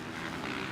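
A loud, steady Honda CRF250 four-stroke dirt bike engine roar with a buzzing, harmonic drone, sustained at close range without pauses during the Finke Desert Race.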